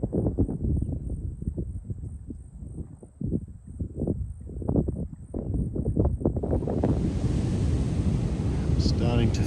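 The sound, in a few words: waves and wind on an empty beach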